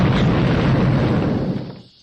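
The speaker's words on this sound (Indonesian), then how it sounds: "Aku sudah mempersiapkan bom yang gila ini." A bomb explodes in an action comedy film scene, one loud booming blast that rumbles on and then dies away over the last half second.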